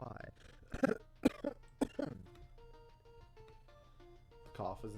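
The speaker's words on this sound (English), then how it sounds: "Cough is intentional" Several sharp, close coughs in quick succession, followed by a brief soft tune of game music notes and a short voice at the end.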